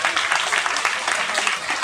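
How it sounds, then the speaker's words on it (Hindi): Audience clapping at a school Independence Day celebration, a loud, close, dense burst of applause that stays steady and continuous throughout. "एक बार अपनी धन्यता के लिए ताली बजाइए।"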